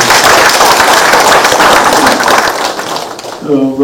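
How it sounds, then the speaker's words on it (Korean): An audience at a civic gathering honoring local council members breaks into loud, dense clapping that fills about three seconds before fading as a voice starts speaking. "박수 한번 보내주십시오"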